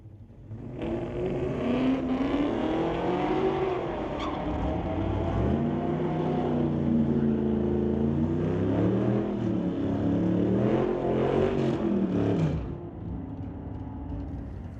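A 1993 Fox Body Mustang with an LS swap launches and races an El Camino down a drag strip, a loud engine roaring and climbing through gear changes for about twelve seconds, then cutting off abruptly.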